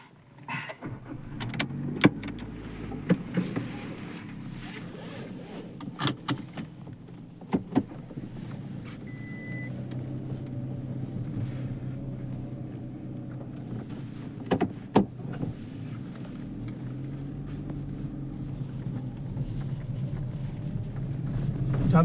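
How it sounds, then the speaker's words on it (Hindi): An automatic car, retrofitted for an above-knee amputee driver and started by pressing the brake, is driven along. A low, steady engine and road rumble runs throughout, with occasional clicks and thumps inside the cabin. "ये ऑटोमेटिक कार में ब्रेक प्रेस करके ही गाड़ी स्टार्ट होती है।"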